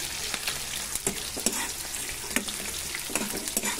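Browned garlic and onion sauté in a pan for sautéed tomatoes, making a close steady sizzle punctuated by frequent light clacks of a spatula stirring, with no one speaking.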